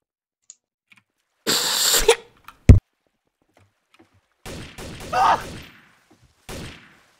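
Gunfire in Garry's Mod during an Among Us mod match, heard as a few sharp bursts between quiet gaps, with another burst and a short cough-like crack later; no speech over the shots.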